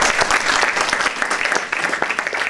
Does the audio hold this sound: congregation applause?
yes